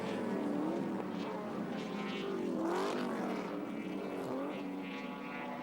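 Ford Falcon touring cars race through a fast corner at about 200 km/h at Surfers Paradise in 1983. Their engines whine loudly with pitch sliding up and down as the cars pass, a continuous roar.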